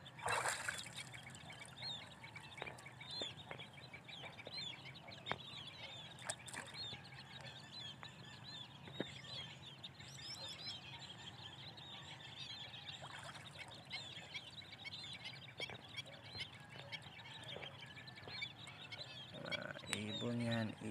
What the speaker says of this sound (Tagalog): ah, ibon yan